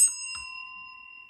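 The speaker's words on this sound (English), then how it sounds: "I'm going to go ahead and ring the bell just to clear out any and all residual energy." A small bell is struck once, giving a bright, clear ding whose pure ringing tone lingers and slowly fades in an otherwise quiet room.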